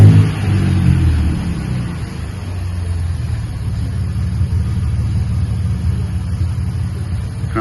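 A 2026 Nissan Frontier fitted with a Magnaflow wide open muffler revs with a mild rumble, rising at first, then settling into a steady low exhaust drone.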